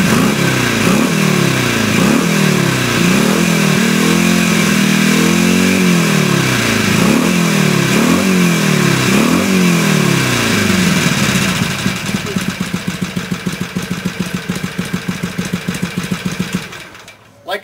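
A Harley-Davidson Sportster with Screamin' Eagle exhaust pipes revs repeatedly, loud and close, its engine rising and falling in regular blips before settling into a lumpy, rapid idle that cuts off at the end.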